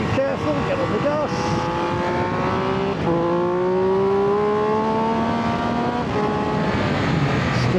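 A car engine revving hard as the driver accelerates, rising whines climbing in pitch through several gear changes, loud and close, with a person talking over it.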